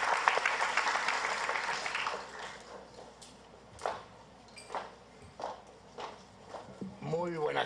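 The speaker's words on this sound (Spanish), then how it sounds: "damos la bienvenida con un fuerte fuerte aplauso al doctor" Audience applause welcoming a doctor at a congressional session on the El Frontón case, loud and dense at first, then thinning to scattered claps as a voice begins speaking near the end.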